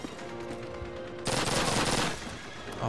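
A burst of machine gun fire in the Call of Duty campaign, a loud sustained rattle of rapid shots lasting under a second after quieter game background.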